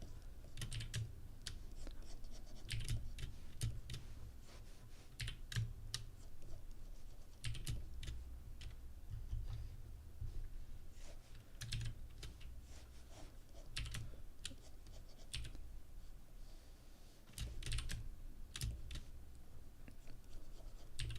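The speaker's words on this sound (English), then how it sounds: "when I'm typing, I prefer to use this keyboard because it actually feels a lot nicer" Someone types on a computer keyboard at a drawing desk, with bursts of quick clacking keystrokes broken by short pauses. The sound stays close and moderately quiet throughout, and nobody talks.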